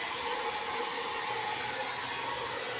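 A pet blower drying the wet fur of small dogs gives a steady, loud, unbroken broadband rush that stays even throughout, with no talking over it.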